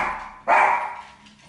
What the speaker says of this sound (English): The dog's barking at me because she can hear me talking.